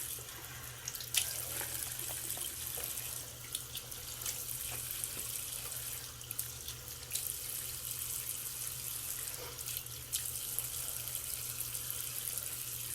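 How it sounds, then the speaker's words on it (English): A bathroom sink tap runs steadily as someone washes their face, a continuous hiss of water with small splashes and hand movements throughout, fairly quiet and with no talking. "Alright, I'm gonna wash my face."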